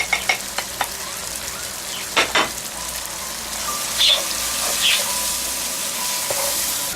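Ground spices, including coriander powder, sizzle loudly and steadily in a frying pan with eggplant, with a few clinks and stirring scrapes near the start.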